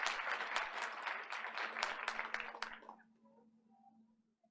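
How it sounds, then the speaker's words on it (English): People at a Board of Education meeting clap for an honoree, a brief burst of close, crisp applause lasting about three seconds before fading out to a quiet room with a low hum. "Let's give her another round of applause."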